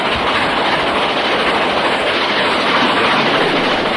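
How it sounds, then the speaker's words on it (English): A Southern Railway Schools class steam locomotive hauls an all-green Southern Railway train into Newton Prior station, a loud, steady roar of rolling stock with faint clickety-clack, continuous throughout with no voices. "a Southern Railway Schools class locomotive arrives, hauling an all-green Southern Railway train bound for London"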